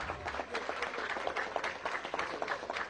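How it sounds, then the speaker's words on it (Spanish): A crowd in a neighbourhood gathering in El Martirio de Ponte Piedad applauds to welcome a visitor, producing a dense, continuous wash of clapping at moderate distance, alone without speech. "¡Aplauso!"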